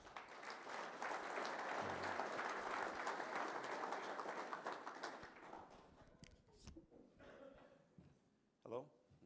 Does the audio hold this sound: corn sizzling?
no